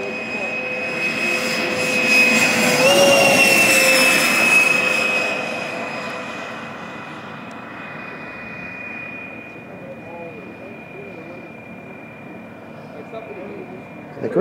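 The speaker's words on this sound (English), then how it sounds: "This is a quarter scale radio controlled electric ducted fan" A quarter-scale radio-controlled electric ducted fan T-38 Talon jet flies by with a loud, high whine that peaks early, then fades to a steady distant hum.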